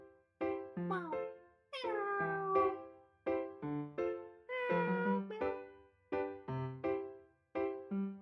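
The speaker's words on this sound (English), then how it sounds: "It sounds like someone making cat noises." A rapid series of cartoonish cat meows from a video game, some drawn out and wavering, repeating one after another with short gaps, clear and close.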